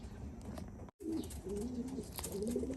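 Racing pigeons coo softly in low, rolling calls from a loft, moderately close, amid quiet outdoor background noise, briefly cut by a short dropout.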